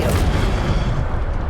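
A fire spell from the Hogwarts Legacy video game bursts with a loud, dense, rumbling whoosh that holds roughly steady for about a second and a half.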